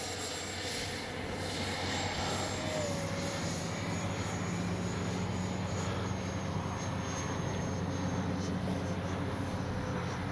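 A FLYFANS K-8 Red Falcon 6S RC jet model flies with its landing flaps deployed, its electric ducted fan giving a constant, loud, steady whine and roar throughout.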